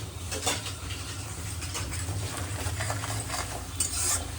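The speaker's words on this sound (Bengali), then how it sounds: "যে পেঁয়াজ ভাজা চলছে।" Onions fry in a pan at home while a utensil stirs them, giving a soft steady sizzle broken by scraping strokes and light clinks against the metal.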